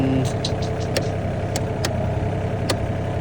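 A mini excavator fitted with a breaker runs with a steady, loud mid-pitched engine drone close by, with a few brief sharp clicks over the top and no clear rise in revs.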